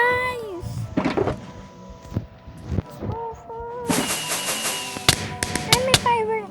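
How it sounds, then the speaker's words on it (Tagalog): Fireworks go off in a video game as a cluster of sharp, crackling bursts and bangs late in the moment, over game sounds, with a person talking throughout. "Lakas pala ng fireworks na yun."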